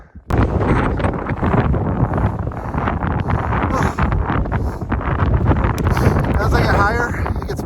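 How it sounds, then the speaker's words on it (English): Strong, steady wind roars and buffets the microphone high on a snowy mountain slope during a snowshoe hike, loud and continuous without letup. "As I get higher, it gets windier and windier."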